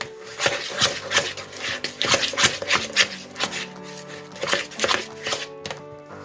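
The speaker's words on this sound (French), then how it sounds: "Pour l'instant, je continue à mélanger" Cookie dough for peanut-butter-filled shortbread being mixed after an egg yolk goes in, with repeated rhythmic scraping and thumping strokes in a bowl, close and steady throughout.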